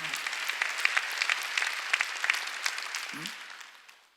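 A church congregation at a Sunday worship service bursts into steady, crowded applause of many hands, fairly loud and continuous before tapering off, with a brief murmur of voice underneath.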